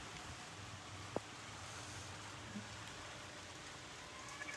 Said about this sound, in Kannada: ಅದು ನೋಡಿ ಎಷ್ಟು ಮಳೆ ಸ್ಟಾರ್ಟ್ ಆಗಿಬಿಟ್ಟಿದೆ.